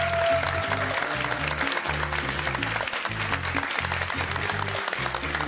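Loud, sustained applause from a studio audience at a Slovak television show, dense clapping filling the whole stretch without a break and with no speech over it.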